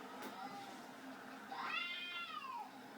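A cat, pisica, gives a faint short mew early, then a longer rising-and-falling meow in the second half, quiet and alone over low room hiss.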